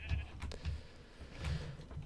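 Sheep in the Minecraft video game bleat in short, close calls, several in a row at an even pace, fairly faint and with no speech over them.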